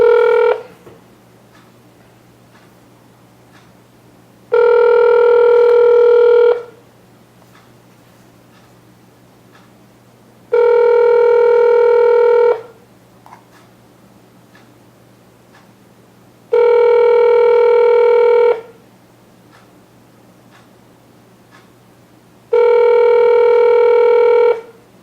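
Outgoing telephone call ringing before voicemail: five regular ringback tones, each lasting about two seconds, separated by roughly four seconds of quiet line hum, clear and steady with no talking.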